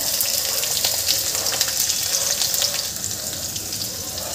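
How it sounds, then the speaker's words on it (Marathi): Bitter gourd and potato fry in oil in a pan with a steady, dense sizzle that holds evenly close by, faint stirring flickers on top and no talking. "याला 1 मिनिट छान फ्राय करून घ्यायचं आहे, 1 किंवा 2 मिनिटं।"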